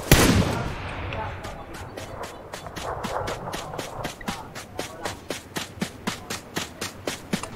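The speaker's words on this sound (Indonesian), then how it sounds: "Lah, aku tuh lagi nembak bang." Gunfire in PUBG Lite on PC: an opening blast, then a long run of evenly spaced sharp shots growing steadily louder and more distinct, with faint voices underneath.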